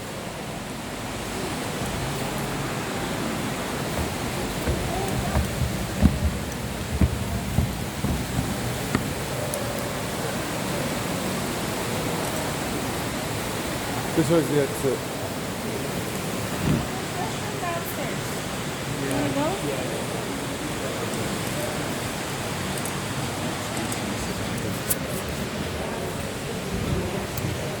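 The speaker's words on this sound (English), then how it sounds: "They probably won't hear it over the sound of water in that tank." Water running in a tank inside a wolf enclosure in Montana, a steady rushing hiss that continues throughout, with occasional voices talking over it.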